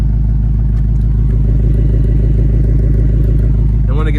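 A 2024 Ford Mustang GT Premium on its stock exhaust runs with a loud, deep, steady engine drone close by, ending with a quick rising rev.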